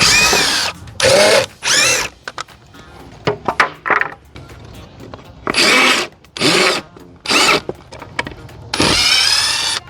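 A power drill removes an old chicken coop door, giving several short, loud whirring bursts separated by brief pauses and small clunks of wood and hardware.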